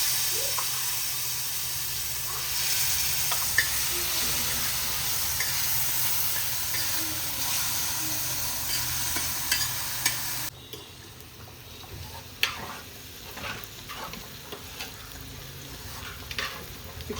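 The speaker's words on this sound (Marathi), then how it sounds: "हा ठेचा त्या तेलामध्ये चांगला परतून घ्यायचा." Maharashtrian thecha chili paste fries in hot oil with curry leaves, asafoetida and turmeric in a pan, a steady close sizzle and hiss with occasional stirring scrapes, dropping to a quieter simmer partway through.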